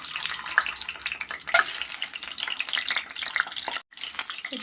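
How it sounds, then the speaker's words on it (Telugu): Eggs fry in hot oil for a dry fish and egg curry, crackling and spitting unevenly with bursts of sizzle. A spoon scrapes now and then, and a brief gap of silence falls near the end. No voices. "ఆయిల్ హీట్ అయింది కదండి, ఇందులో నేను ఎగ్స్ వేయించుకుంటున్నాను."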